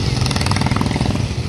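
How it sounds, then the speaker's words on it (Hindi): Motorcycles on a road in Munnar rumble past close by, their engines loud with a rapid, throbbing putter throughout the brief moment. "उसके बाद ये देखो बाइकर्स"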